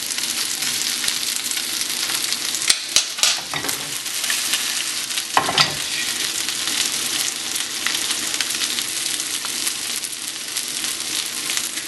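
Crappie fish fillets sear in a hot pan, giving a continuous loud sizzle and crackle for about twelve seconds, broken by a few sharp pops and clatters as they are shifted, with no talk.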